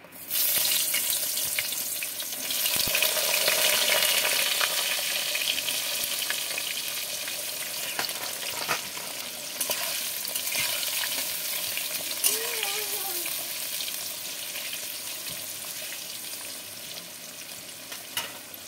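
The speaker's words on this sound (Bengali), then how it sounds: "এবার আমি বেগুনগুলো ভেজে নেব।" Brinjal pieces frying in oil, a continuous close hiss and crackle with occasional stirring clinks that eases gradually over time.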